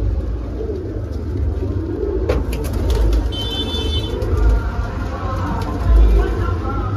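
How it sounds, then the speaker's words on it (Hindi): Pigeons of Saharanpuri, Rampuri and Punjabi breeds coo softly and repeatedly, close by, with a steady low rumble of traffic and faint babbling voices in the background. "बेहतरीन कबूतरी कबूतर है"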